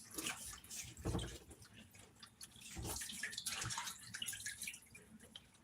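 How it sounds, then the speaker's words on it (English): Skinless chicken breasts rinsed under cold running water with distilled white vinegar, faint splashing and dripping in uneven bursts as the meat is handled under the tap. "There's some skinless chicken breasts that we're just washing off, some cold water, and some distilled white vinegar."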